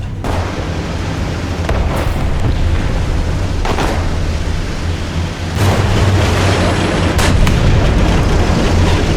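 Sturmtiger rocket-mortar artillery fire in a 10 vs 10 War Thunder battle, heavy booms recurring every couple of seconds over a constant low rumble of engines and battlefield noise.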